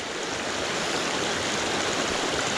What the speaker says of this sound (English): we come to this creek crossing, which looks to be a little bit